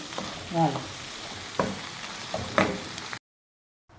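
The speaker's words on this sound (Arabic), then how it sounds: "وراني نقلي فيهم هكذا حتى يطيبوا" Chicken pieces seasoned with black pepper, salt and turmeric sizzle steadily in a pan, with a few scraping stirs and a brief murmur of voice, before the sound cuts off abruptly.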